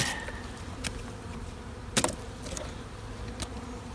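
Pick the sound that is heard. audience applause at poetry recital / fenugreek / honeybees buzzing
honeybees buzzing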